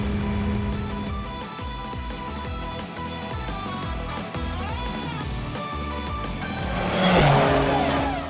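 Racing car engines in the video game Trails Through Daybreak II roar and rev steadily over a dense bed of game music, swelling louder near the end with a bright burst of tire or engine noise.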